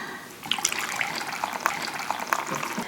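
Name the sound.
pouring hot water into pudding mix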